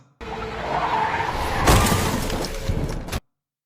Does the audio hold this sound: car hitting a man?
yes